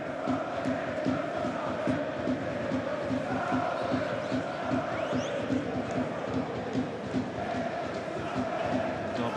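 A sellout crowd of about 20,000 fills a football stadium for a Championship match between Portsmouth and West Bromwich Albion, a steady dense roar of murmuring and chanting voices with rhythmic pulses running throughout.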